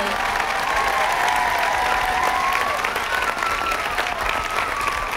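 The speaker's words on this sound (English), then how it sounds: "let's give them one more round of applause" Dense, steady applause from an audience at an elementary school Blue Ribbon ceremony, close and sustained without a break for about five seconds, with no one speaking over it.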